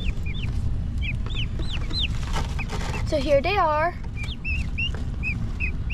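Ducks and turkeys in their pen call out with short chirping and peeping notes and a brief run of warbling calls, over a steady low background. A voice speaks briefly among them.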